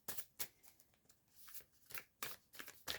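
Cards from a Healers of the Earth Oracle deck being shuffled by hand, a close, crisp run of riffling and sliding bursts with no voices.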